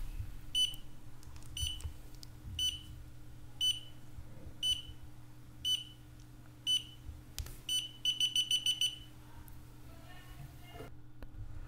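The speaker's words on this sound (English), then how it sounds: "this sound that you just heard was actually a notification that the upgrading process is finished" Xiaomi YI action camera sounding a firmware-upgrade-finished notification: a series of short, fairly loud beeps spaced about a second apart, then a faster run of several quick beeps, over a steady low hum.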